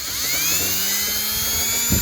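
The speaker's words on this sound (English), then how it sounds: "Drill it out to 3/8." A step drill bit bores a steel tailgate pivot hole out to 3/8 inch on a 1959–66 GM Fleetside, giving a steady, loud, high-pitched whine that holds for about two seconds with no talking.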